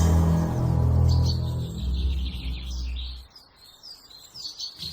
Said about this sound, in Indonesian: Kicauan burung mulai menjauh tatkala matahari menyongsong hari.